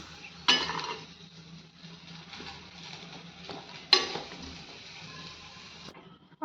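Okra (bhindi) frying in a kadhai over low flame, a soft steady sizzle under two sharp metallic scrapes and clinks of a spoon stirring against the pan, with no talking.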